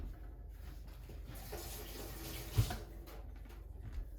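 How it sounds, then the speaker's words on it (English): Warm water runs briefly from a kitchen tap to wet a hand while ciabatta dough is being stretched, a soft, faint, steady trickle with a small splash partway through. "I'm using warm water on my hand."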